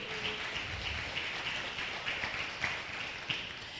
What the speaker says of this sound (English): So if you can give them all a round of applause